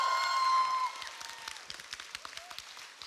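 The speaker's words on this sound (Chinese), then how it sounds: "我想今天大家给一次最大的掌声给他们" Concert audience applauding at a live pop show, scattered clapping and faint cheering following a sustained musical tone that fades out, moderately distant.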